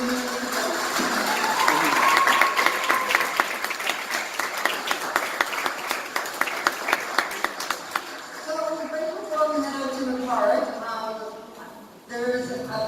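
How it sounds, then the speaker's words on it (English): An audience at a Trans Day of Remembrance gathering breaks into sustained applause, dense rapid clapping with some cheers, fading toward the end as voices and murmurs take over. "please give a big round of applause to the Trans Day Remembrance Community Committee"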